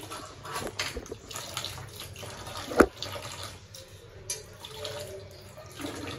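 Water poured into a cooking pot in a home kitchen, a soft steady trickle with one brief splashy clink midway, fairly quiet, with no talking.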